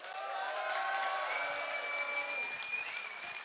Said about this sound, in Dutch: En voor hun een heel groot applaus.